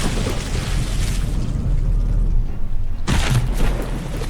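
Artillery shells from battleships exploding in From The Depths, heard as a heavy rumbling barrage with a sharper blast near the end, loud and dense throughout.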